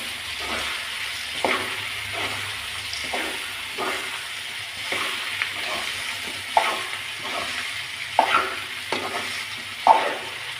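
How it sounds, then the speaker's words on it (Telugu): Potatoes stirred into softened ingredients and frying in a pan, with rhythmic scraping strokes roughly every second over a continuous low sizzle. "ఆలు వేసుకొని ఇంకా బాగా కలిపెట్టేసుకోవాలి"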